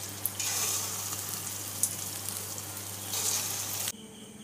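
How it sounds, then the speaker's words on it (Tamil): Small balls of urad dal bonda batter deep-frying in hot oil, a close, dense crackling sizzle with bursts of bubbling that cuts off abruptly. "இப்போ மீதம் இருக்கறதையும் இந்த மாதிரி எண்ணெய் காஞ்சதுக்கு அப்புறம் சின்ன சின்னதா போட்டு பொரிச்சு எடுத்துக்கலாங்க"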